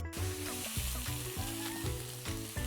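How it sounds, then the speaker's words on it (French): Chicken bones brown in olive oil with a close, bright sizzle. A low, regular thudding from the pan runs under it through the short stretch. "que je mets pour faire revenir mes os"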